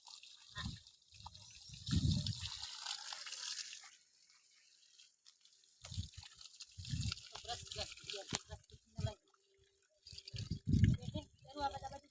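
Water splashes and trickles in bursts from a hose while a buffalo is washed, with gaps of quiet between and voices speaking intermittently nearby.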